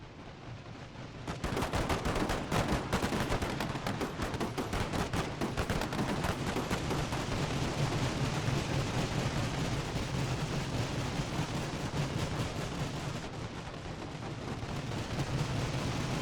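Rapid, continuous volleys of gunfire from a Fall of the Samurai battle game, dense overlapping shots crackling without pause for most of the stretch, loud and sustained with a low rumbling bed beneath.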